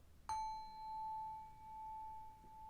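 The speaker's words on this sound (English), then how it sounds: "let me ring this bell" A single small bell is struck once during a tarot reading, a clear bright ding that rings on and slowly fades with a sustained tone in a quiet room.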